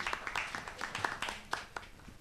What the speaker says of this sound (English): A round of applause for the man, Kitty